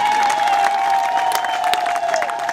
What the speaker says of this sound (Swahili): piga kidogo makofi